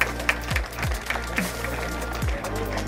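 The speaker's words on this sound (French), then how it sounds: "On va s'en donner à cœur joie avec vos applaudissements qui leur sont destinés" Audience applause at an award ceremony for a cadet cycling race, the Trophée Madiot round at Lannilis, France: dense, steady clapping from a crowd over a low hum, continuing throughout without a break.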